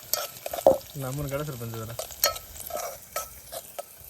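Onion fries in a cooking pot set over an outdoor wood-fired stone stove, crackling and sizzling under brisk stirring scrapes, while people talk nearby and a voice is briefly raised.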